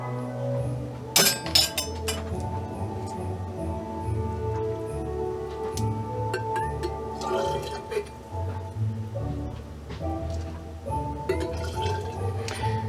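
Liquid being scooped out of a slow cooker of BBQ chicken, with spoon clinks against the crock and wet drips, over a steady low hum.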